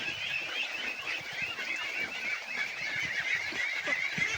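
A flock of domestic ducks calls in a dense, continuous chorus of raspy quacks while being fed snails, a steady, moderately faint din with no clear pauses.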